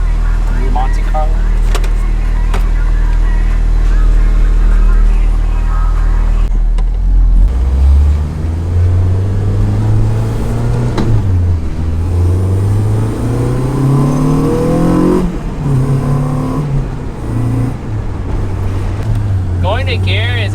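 A Chevrolet Monte Carlo fitted with a Hybrid Racing shifter is driven with its engine droning close by, the revs climbing and falling through several gear changes, and someone talks over it.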